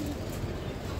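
A pair of racer pigeons at a pigeon farm in Bangladesh, heard as a soft, low cooing that murmurs close by for a brief moment.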